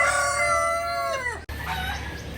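A rooster crows once at a house in the Philippines, a loud, close, drawn-out call that falls in pitch, followed by quieter clucking of chickens nearby.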